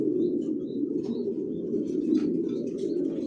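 Racing pigeons of Johnson long-distance lineage in a loft, with soft continuous low cooing filling the space and faint scattered chirps and wing rustles over it.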